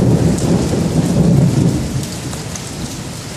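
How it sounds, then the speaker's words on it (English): Rain begins falling during a thunderstorm in Wimberley, a steady loud hiss of rain blended with deep rolling thunder rumble that eases slightly toward the end, with no talking. "It wasn't raining when I got here. Oh, it just started."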